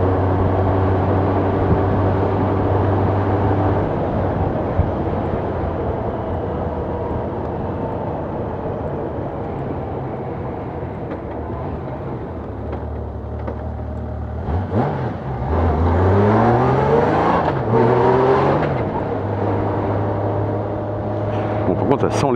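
A motorcycle engine running and revving, replacing a broken Royal Enfield Himalayan, idling steadily up close, then revving in rising and falling sweeps, with someone talking over it.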